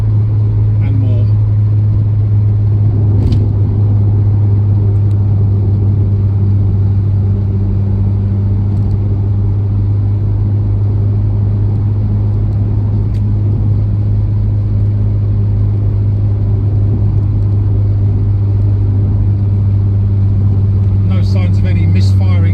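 A 1989 Toyota Celica GT-Four ST185 rally car drives along, giving a loud, steady low engine rumble and road noise that hold throughout, with a few faint clicks and a brief rattle near the end.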